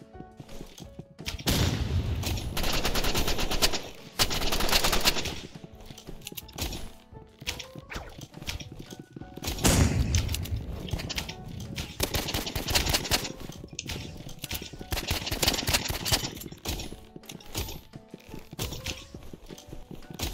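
Rapid gunfire in Roblox Rivals, dense bursts of clattering shots in several long volleys separated by quieter gaps, loud and close over continuous game sound.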